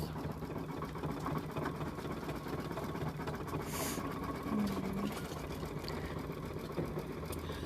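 Embroidery sewing machine stitching a design onto a towel, a steady continuous mechanical whir with a fast rhythmic needle patter, moderately close and unbroken, with no voices.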